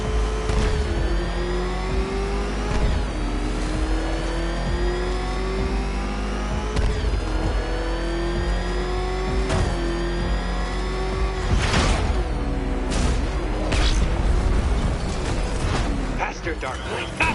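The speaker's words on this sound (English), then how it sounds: "Can that ramshackle motor handle this?" Racing car engine in a Batman video game, revving and accelerating steadily with whining pitch sweeps and repeated shifts, loud and continuous throughout, with a voice speaking over parts of it.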